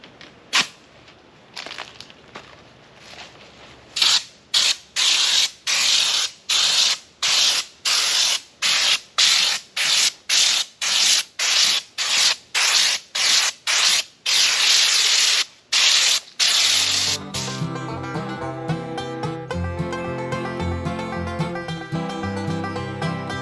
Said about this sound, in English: now we're going to connect it to the air and start painting